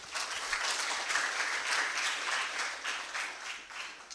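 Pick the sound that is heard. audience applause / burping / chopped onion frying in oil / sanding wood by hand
audience applause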